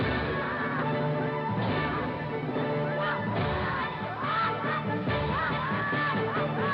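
A video game character screams in drawn-out, wavering yells layered over loud music, dense and continuous throughout.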